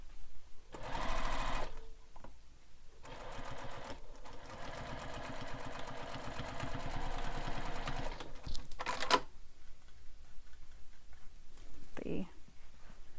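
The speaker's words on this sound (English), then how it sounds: "I always like to backstitch in corners just for some extra security" Sewing machine stitching a bowler bag and backstitching at the corners, running in a few quick bursts that rattle steadily at close range, with quiet talking over and between them.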